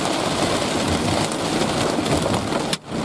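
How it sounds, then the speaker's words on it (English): Hail pelting down in a destructive supercell storm in northeast Colorado, a dense, steady roar of impacts that cuts off abruptly near the end. "Hail! We got hail!"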